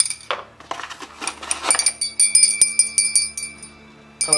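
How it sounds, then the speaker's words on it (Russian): A small metal bell from a Bloodborne Nightmare Edition collector's box, rung close by in a rapid series of bright ringing strikes with brief pauses between them, with no talk. "колокольчик. Приятная штука."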